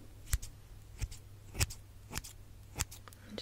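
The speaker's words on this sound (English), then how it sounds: "I'm just gonna use these trimming shears." Trimming shears snip hair in five crisp, close cuts spaced irregularly over a soft low hum, with no talking.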